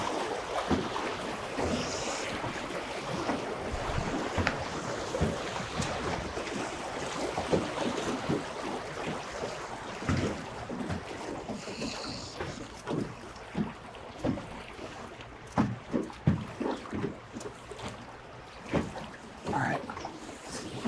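A small motor boat runs across open water, a steady broadband engine and hull wash with wind noise throughout, while voices speak briefly now and then.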